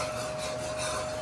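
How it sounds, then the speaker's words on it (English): Steady scraping and rasping of a metal spoon against a pot of caramelizing sugar, continuous and close, with a faint high tone running underneath. "excuse the noise, because it's a metal spoon, of course, I'm using to caramelize the sugar"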